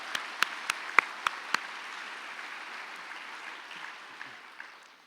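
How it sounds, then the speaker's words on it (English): A conference audience applauds for keynote speakers: a few sharp individual claps ring out up front, then a soft, distant wash of clapping from the hall fades out. "clap for that one"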